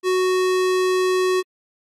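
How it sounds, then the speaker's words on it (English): A square wave tone sounds at one steady pitch with a bright, hollow buzz of strong overtones, loud and constant for about one and a half seconds before cutting off into silence. "square wave,"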